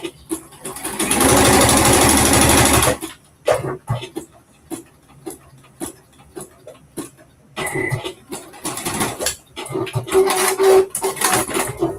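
An electric sewing machine runs in one continuous three-second burst of stitching, followed by scattered clicks, clatter and short bursts as sewing of a top continues.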